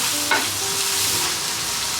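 Chopped onion sautés in a hot pan for a creamy garlic mushroom chicken dish, a steady close sizzle with a quick stir scrape near the start.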